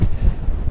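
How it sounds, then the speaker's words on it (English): A strong January gust buffets the microphone on Mill Hill, north of Shoreham in West Sussex, as a brief, heavy, low rumble with no voices. "My God, it's windy."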